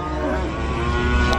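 Cattle at an animal market in Nglangon, Sragen, Central Java: a single loud, close moo fills the short moment, low and drawn out, over a faint background of the busy market.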